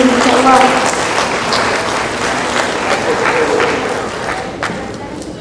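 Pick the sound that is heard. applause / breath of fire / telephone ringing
applause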